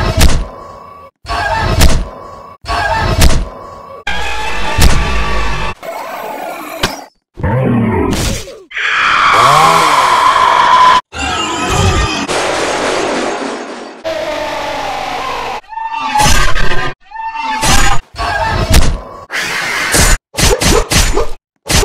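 Jump scares from the video game Piggy: a rapid series of loud, abrupt thunks, whooshes, grunts and roaring screeches, each burst separated by short silent gaps.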